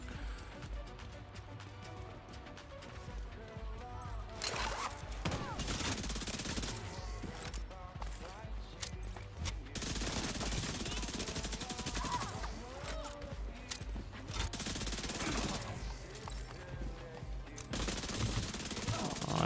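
SMG fire in the video game The Division 2 during a PvE fight, with sustained rapid automatic bursts and layered battle noise running nearly the whole time, loud and busy.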